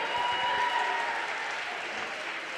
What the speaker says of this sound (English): give yourselves a round of applause, everyone